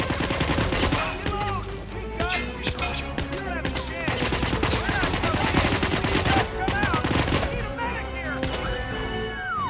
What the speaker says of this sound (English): Okay, gunfight time.